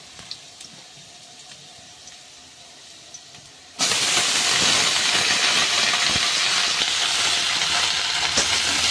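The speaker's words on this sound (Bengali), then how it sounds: "এবার আমি পালং শাকটা দিয়ে নিচ্ছি, হালকা নেড়ে নেবো।" Fresh spinach hits a hot pan of fried potatoes, jumping from a quiet background into a loud, sustained close sizzle and hiss for the rest, with light stirring, no talk.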